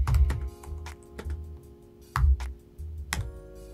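Keystrokes on a computer keyboard as a git clone command is entered in a terminal, sounding as irregular clusters of close, crisp clicks with short pauses between bursts and no talking.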